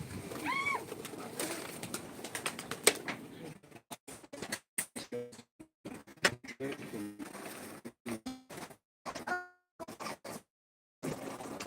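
Pigeons coo and flutter amid intermittent clanks and bumps, with birds close by and sounds stopping and starting in short bursts.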